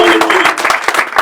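An audience at a creativity and innovation talk breaks into a short round of loud, close clapping, with a voice briefly heard at the start over the claps.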